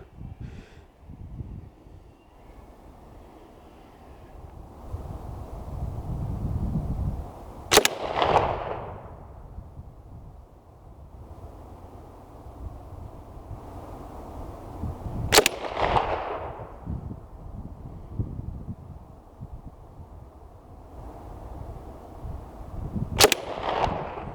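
Three sharp, loud single shots from a Swedish K m/45b submachine gun ring out at an outdoor shooting range, spaced roughly seven to eight seconds apart over wind and background noise.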